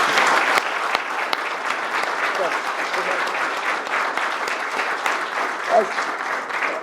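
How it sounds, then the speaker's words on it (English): Audience applause at a community event for an engine house acquisition, a full, steady round of clapping from a crowd, fairly close, with faint voices underneath. "I really want to give him a major applause"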